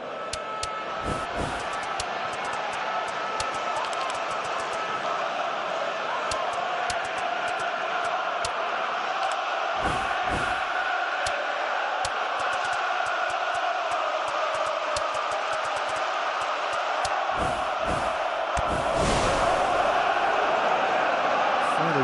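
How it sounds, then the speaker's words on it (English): Stadium crowd in a football video game, a continuous roaring wash of fans with applause swelling near the end, under steady commentary. "Crowd appreciates good football all round there."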